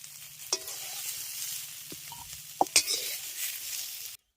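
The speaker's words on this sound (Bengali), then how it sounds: "অল্প তেলে সয়াবিনের আলুটাকে ভেজে নিই" Soybean chunks and potatoes fry in a little oil, making a continuous quiet sizzle broken by a few clinks and taps of a utensil against the pan before it cuts off.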